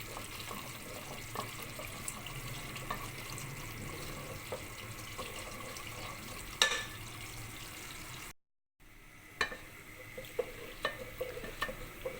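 Milk cream (baalai) being stirred steadily in a pot as it cooks down into ghee, giving a soft continuous bubbling sizzle with occasional spoon scrapes and a brief dropout near the end.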